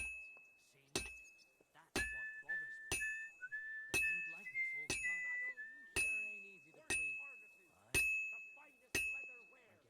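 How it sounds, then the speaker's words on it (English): Blacksmith hammer striking metal in Kingdom Come: Deliverance 2, about ten sharp ringing clangs spaced roughly a second apart, each leaving a bell-like ting that decays, with a sustained tone underneath. "You always want to smack it and get as many sparks and a good, I guess, bell sound, or that ting that you hear, as clean as possible."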